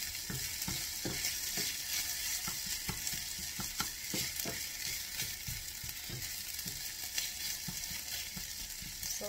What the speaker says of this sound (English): Saute that for about a minute.